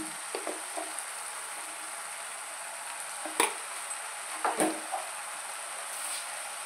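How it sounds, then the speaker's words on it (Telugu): Spices with salt, chili powder and turmeric stirred and frying in hot oil in a pan, a steady close sizzle with occasional scraping stir strokes and soft clinks. "మళ్ళీ ఒకసారి బాగా కలుపుకొని వేపుకుందాము"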